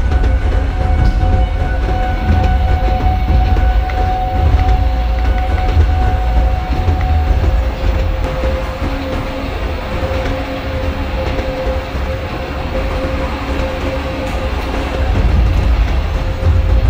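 Simulated Indian passenger train, the Kanpur–Tundla Fast Passenger, running at about 60 km/h toward Govindapuri junction in Microsoft Train Simulator, with a loud, steady low rumble and a sustained engine hum throughout and no talking.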